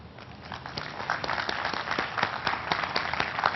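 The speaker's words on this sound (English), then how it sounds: "Can I have a huge round of applause for Jenson." An audience claps for Formula One World Champion Jenson Button at a car and bike show special, the applause starting moderate and swelling louder with distinct individual claps standing out.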